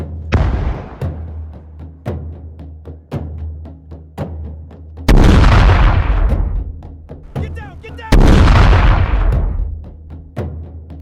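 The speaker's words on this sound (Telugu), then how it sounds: "బాంబ్ బ్లాస్ట్ అయింది, ఇప్పుడే బాంబ్ బ్లాస్ట్ అయిపోయింది" Bomb blasts during unrest in Manipur, two heavy booming explosions with long rumbling decay amid a series of sharper distant thuds, loud and close with no talking.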